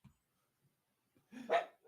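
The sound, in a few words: dogs barking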